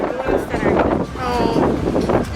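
Strong wind at a Goa beach buffeting the microphone in loud rumbling gusts throughout, with a voice partly audible through it.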